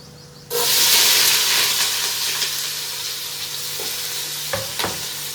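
Onions, green chilies and curry leaves for mutton biryani hit hot oil with a sudden loud sizzle, then keep frying in a steady hiss, with a few clinks of stirring near the end.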